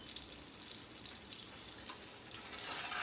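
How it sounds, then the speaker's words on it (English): A tomahawk steak sears in a hot pan with a constant, fairly soft hiss and fine crackle, steady and close with no voices. "now our steak has been cooking for about 3 minutes each on each side"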